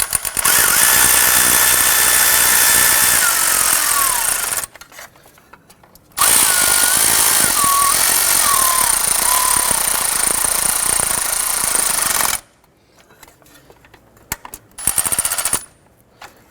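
Bolts on the EGR valve intake of a 1993-1997 Ford Ranger are run down with a power driver in long steady whirring bursts, separated by quiet pauses and ending with a short final burst.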